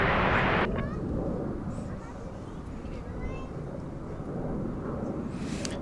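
A jet airliner taking off from runway 36 right at DFW airport, a loud broad engine roar that swells and stays steady throughout, with faint talk underneath.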